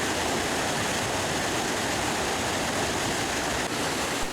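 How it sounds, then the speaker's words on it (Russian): A small waterfall pours in a steady, loud roar of churning water, a continuous broadband rush with no pauses and no voices. "Водопад хоть и небольшой, но вода вокруг тебя бурлит, словно ты в Ниагаре."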